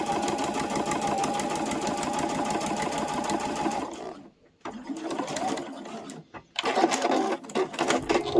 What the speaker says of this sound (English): So back stitch at the top and the bottom.